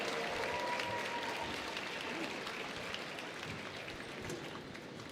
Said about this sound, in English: put your hands together and give a warm round of applause for all of our senior